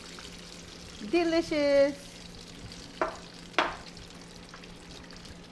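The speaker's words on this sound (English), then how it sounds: "hear that sizzle." Melted butter sizzles in a pan with a steady, low crackling hiss. A person speaks briefly over it, and two short utensil clicks follow.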